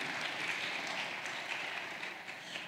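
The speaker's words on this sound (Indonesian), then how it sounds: "Sekali lagi kita berikan apresiasi tepuk tangan pada para pembicara kita pada hari ini." Audience applauding the speakers at the close of a university entrepreneurship student program briefing, a faint, steady wash of clapping lasting a few seconds without talk.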